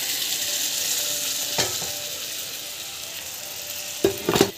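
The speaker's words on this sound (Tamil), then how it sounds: "கொஞ்ச நேரம் வந்து இப்படி வதங்கட்டும்" Chilli powder sizzling in hot oil in a pan while tempering for mango dal, a steady soft frying hiss throughout, with a couple of brief louder stirring scrapes near the end.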